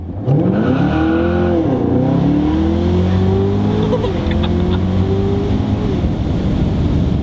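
A 2019 Camaro ZL1 launches and accelerates hard on a cold day with its tires spinning, the loud engine note climbing steadily through the revs for several seconds, close and continuous with no talking.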